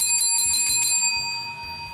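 A bright, tinkling notification bell chime rings as a subscribe reminder, several quick metallic strikes with sustained ringing tones that fade out over about two seconds.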